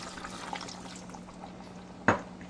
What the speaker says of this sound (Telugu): ఇప్పుడు వాటర్ పోయాలి.